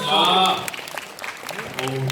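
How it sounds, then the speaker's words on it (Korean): A live audience at a public radio broadcast held at a Seoul university applauds in a burst of scattered clapping, mixed with voices and brief cheers close by. "와 광주에서 박수 한번"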